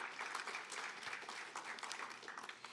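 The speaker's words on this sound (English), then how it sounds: "Another round of applause for yourselves." Applause from a graduation ceremony audience, a dense, even wash of many hands clapping for a few seconds at moderate distance, with no voices over it.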